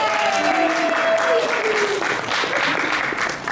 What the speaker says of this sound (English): a round of applause for my assistant for doing everything